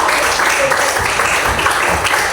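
Students in a classroom clap for a group in a dense, continuous patter that sounds fairly close and loud, with some voices faintly mixed in.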